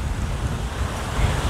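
Wind gusts across a cleared woodland walking trail on a breezy day, a steady low rumbling buffet on the microphone that swells slightly near the end, with no talking.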